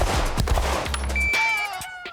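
Gunshots from a Springfield Armory 1911 DS Prodigy Comp pistol on a range, several sharp close reports in quick succession followed by ringing, metallic decay.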